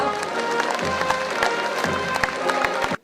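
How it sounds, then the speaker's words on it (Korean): Loud, dense applause with claps and crowd noise fills a ceremony hall at a 2007 national vocational skills development month commemoration, sustained near throughout before cutting off abruptly at the end. "여러분 힘찬 박수로 맞아주시죠"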